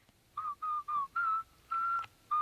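A person whistles a simple tune alone as a string of six short, clear pitched phrases with brief gaps, fairly close and steady in loudness.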